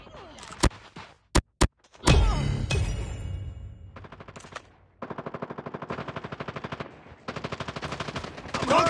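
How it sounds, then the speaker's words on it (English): Automated sentry gun in a first-person shooter video game firing rapid bursts at enemies, loud machine-gun rattle with a few sharp single shots and a heavy blast, then sustained automatic fire in pulsing volleys. "Sentry gun deployed."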